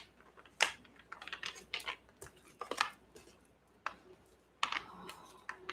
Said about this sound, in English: to actually do one more like official shuffle here